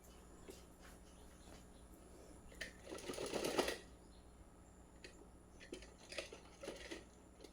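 Domestic sewing machine stitching a small yellow cloth dhoti onto a doll's choli, a short burst of close mechanical whirring mid-clip amid lighter handling taps and rustles.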